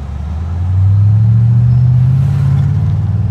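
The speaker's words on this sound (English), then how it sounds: "it's got a really nice rumble to it" A 2009 BMW 6-Series in good condition with 105,792 miles idles with a deep, loud engine rumble that swells and holds steady, alone without talk.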